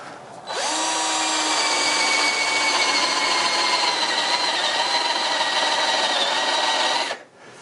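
A power drill with a 3/4-inch spade bit runs steadily through wood for about seven seconds, a continuous high whine with no talking.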